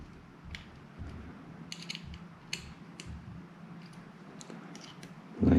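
Tightening a Huma Air barrel tensioning system on an air rifle gives soft ratcheting clicks and faint creaks up close, with a louder knock at the end.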